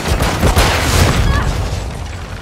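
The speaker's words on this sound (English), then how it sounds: "Throw in flashbang!" Dense, loud burst of gunfire and explosive noise from a Call of Duty Modern Warfare 2 multiplayer match on Shipment, with a flashbang going off amid the chaotic firefight.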